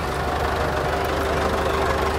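A tractor engine idles steadily close by at a folk yodelling festival parade in Horw, Lucerne, its low rumble and faint knock running continuously with no pauses and crowd noise mixed in.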